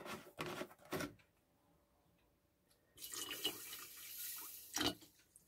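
Water poured into an electrolyte solution, heard as two short splashing bursts followed by a longer, steady gurgling pour with a brief splash near the end, fairly close and moderately quiet.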